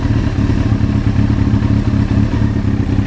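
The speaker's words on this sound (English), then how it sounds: "it idles off choke in just a few seconds with this temperature." A 1995 Honda CBR 900 RR sport bike idles off choke in cool weather, giving a steady, close, even low engine burble that holds without any revving.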